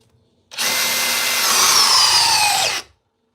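A Craftsman power drill drives an 8-inch TimberLok screw into wood in one loud, sustained burst of just over two seconds, starting and stopping abruptly, close up with no talking.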